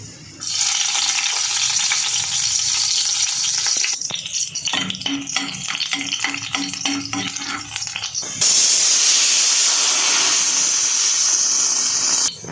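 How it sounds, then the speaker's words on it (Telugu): Cumin seeds, ajwain and peeled garlic cloves frying in ghee in a pan make a steady close sizzle, broken midway by a few seconds of stirring clatter before the bright crackle returns. "అందులో చిటికెడు జీలకర్ర చిటికెడు వాము అలాగే పొట్టు వెలుచుకున్న వెల్లుల్లి రెబ్బలు మూడు నాలుగు వేసి వేయించుకోండి"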